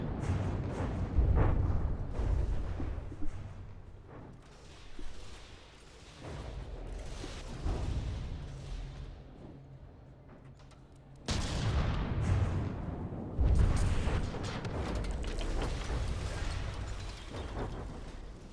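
Artillery bombardment in a naval combat video game: rumbling booms and blasts roll on in uneven waves, quieter in the middle, then a sharp loud burst returns. There is no speech.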